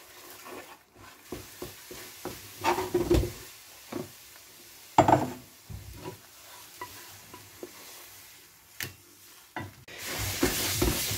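Meat fries in a hot pan for Chinese-style fried noodles, a low sizzle running under repeated scraping and stirring clatters of a utensil against the pan, loud sharp knocks coming in uneven bursts and a brighter hiss rising near the end.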